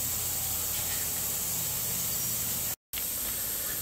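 A garden irrigation line sends out a flat spray of water over a square-foot garden bed, making a steady, loud hiss that runs without a break apart from one brief cut near the end.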